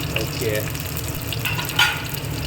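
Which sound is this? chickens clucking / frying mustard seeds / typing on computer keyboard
frying mustard seeds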